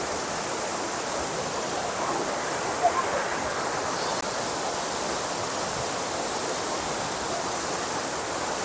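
A waterfall at Pelling roars with water dropping from high above, a dense, steady, loud rushing wash that never lets up and drowns out everything else.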